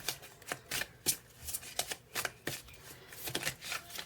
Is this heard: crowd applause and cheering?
no